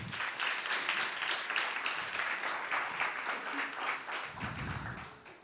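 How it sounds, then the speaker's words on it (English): Audience applause at the close of the InnovateHER 2024 event, a dense steady clapping from a crowd that holds for several seconds before tapering off, with a little low background noise near the end. "a round of applause to her"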